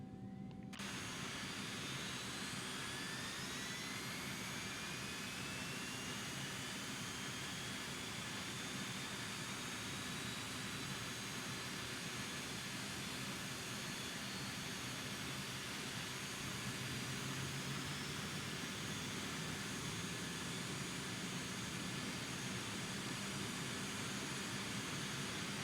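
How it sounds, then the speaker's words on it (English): Jet engine of an Aerobask Eclipse 550 spooling up during a start in X-Plane 11, a steady broadband roar with a faint rising whine climbing slowly over the whole stretch, constant and loud. "Start engine 1."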